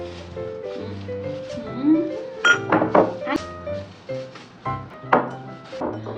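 Thick drinking glasses, individually wrapped in bubble wrap, knock and clink as they are unboxed, a series of sharp irregular chinks and thunks, with someone talking throughout.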